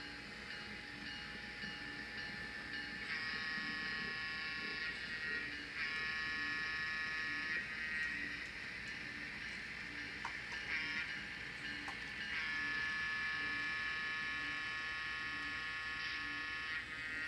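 A tiny N scale switcher locomotive with a sound decoder runs on a model layout, producing a steady synthetic diesel drone with whiny tones that swell and ease in cycles, with a brief stutter midway and no talking.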